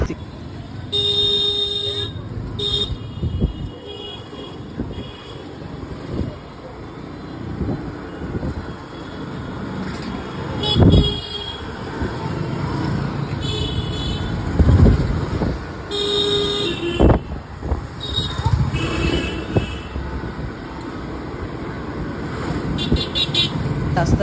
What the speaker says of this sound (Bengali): কত যে গাড়ি টাড়ি পাস করে যেতে হচ্ছে, প্রচুর ভিড়